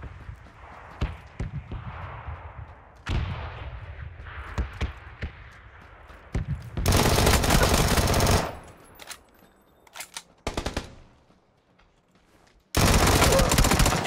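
Gunfire in a shooter video game: scattered single shots, then long loud bursts of machine-gun fire in two main stretches with sharp isolated cracks between, heard close; voices talk between the bursts.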